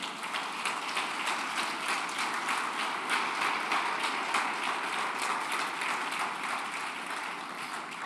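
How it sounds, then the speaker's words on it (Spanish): Church congregation giving loud applause to the Lord during a sermon, a dense, even roar of many hands clapping that holds steady throughout without talk. "Dale un fuerte aplauso al Señor."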